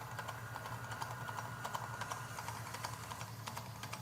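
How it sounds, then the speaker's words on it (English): A pasta machine's spaghetti cutter attachment cutting sheets of ramen noodle dough: a fast, steady run of small clicking, ticking cranks over a low mechanical hum, quiet and close, with no voices. "To cut the noodles, we're going to use a spaghetti cutter attachment."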